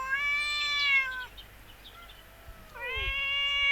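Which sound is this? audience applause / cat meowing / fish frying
cat meowing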